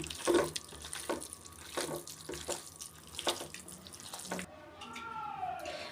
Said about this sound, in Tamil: இது கூட வந்து தண்ணி ஆட் பண்ணோன்னா இது வந்து நம்ம நல்லா பெசிஞ்சு எடுத்துக்கலாம்